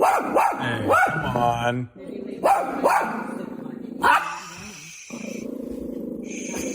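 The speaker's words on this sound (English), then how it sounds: "Barking, growling, barking." Gracie the dog barks in sharp bursts and growls low between them, close and loud, while a person briefly speaks.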